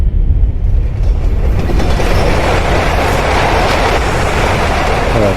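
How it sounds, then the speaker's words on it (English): A train roars past loudly in the video game Condemned: Criminal Origins, a dense, continuous rumble of rolling wheels and rattling cars with a faint metallic squeal near the end. "Now we hear the sound of a train."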